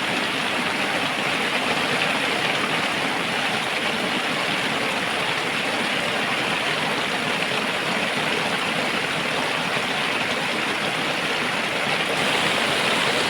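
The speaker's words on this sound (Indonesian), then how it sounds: "Kami pikir hujannya akan segera reda, tapi sepertinya semakin lebat dan membuat suasana malam menjadi semakin dingin." Heavy rain pouring at night in the Kalimantan forest, a dense, unbroken roar of falling water that holds steady and loud throughout, with no voices.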